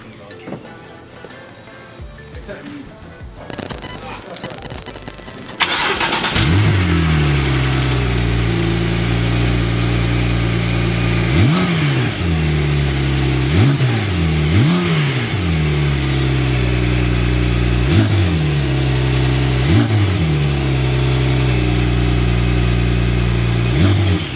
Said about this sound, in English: let's hear it start up